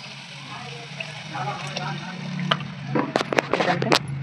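Water is poured into a pan of simmering tomatoes, a low steady bubbling that builds into sharp hissing splashes and sizzling bursts toward the end.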